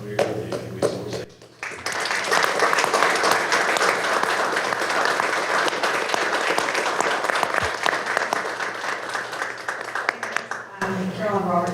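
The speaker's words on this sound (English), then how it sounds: "Join me in a round of applause" A crowd at a city council meeting bursts into sustained, loud applause lasting about nine seconds, with speaking before and after it.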